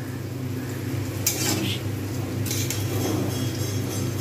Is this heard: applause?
no